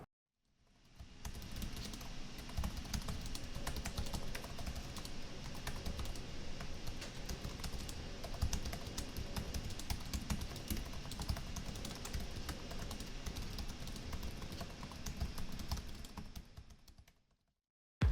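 Steady, quiet typing on the pantograph keyboard of a Razer Blade 14 laptop, a continuous close stream of soft rapid keystrokes with no talk.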